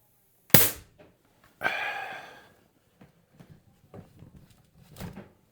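A Pistelle X-68 fires one sharp, loud crack, then a longer hissing burst follows, with scattered softer clicks and handling knocks close by.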